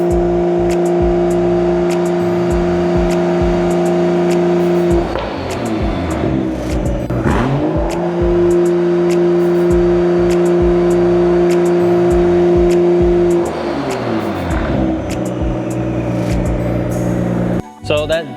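A Toyota MK5 Supra engine revs on its own during an automatic coolant bleed, idling with a steady hum and rising in two clear rev sweeps, loud and close, with the idle settling back between them.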